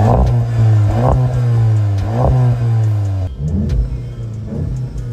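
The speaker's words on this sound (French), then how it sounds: "la voiture elle répond à 4000 tours" The engine of a Volkswagen Golf 7 GTI Performance Phase 2 revs repeatedly toward 4000 rpm, with several rising throttle blips over a steady idle drone, close and loud, then settles back to a rougher idle.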